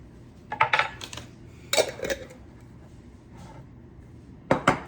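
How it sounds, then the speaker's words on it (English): Pickles dropped onto a salad of lettuce, red onion and diced hamburger give a few brief, light clinks and soft clatters against a dish, in separate bursts with quiet gaps between them. "I'm gonna add some pickles."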